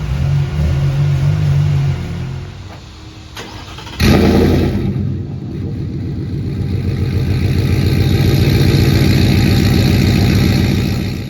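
A 2022 Ford F-150 pickup with long tube headers and straight-pipe exhaust cranks and fires up, then idles roughly before revving with a deep, raspy exhaust rumble close by.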